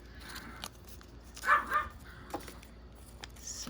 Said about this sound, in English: The dogs think somebody's at the door